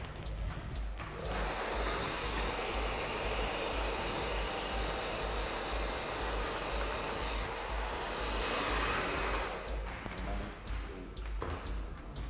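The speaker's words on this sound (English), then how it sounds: "I'm going to dry the hair now." A hair dryer runs steadily while drying hair during a step-by-step punk haircut in a salon, a loud continuous blowing whir that swells briefly near the end and then cuts off with a few brief handling noises.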